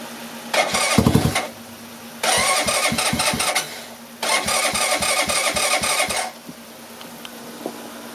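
A Suzuki GS 125 cafe racer motorcycle fitted with a new 200cc engine cranks over in three loud close bursts, the starter whirring with rhythmic engine pulses that catch briefly but do not settle into an idle.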